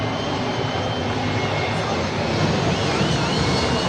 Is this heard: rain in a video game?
no